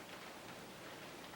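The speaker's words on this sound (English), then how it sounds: "I don't know if you can hear that, apologies for that rain." Rain falling outdoors, a steady soft hiss of drops on surfaces, faint and continuous for a brief moment.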